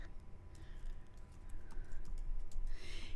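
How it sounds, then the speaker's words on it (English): Fingers type on a computer keyboard, entering text into a job name field of an online print ordering tool, with soft, fairly steady key clicks over a low background hum. "Give your job a name by typing in the Job Name field"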